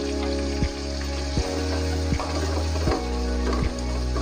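Onion, garlic, tomato, green chilli and curry leaves sauté in a pan with a steady, close sizzle and crackle, while a few regular low thumps or stirring knocks repeat through it.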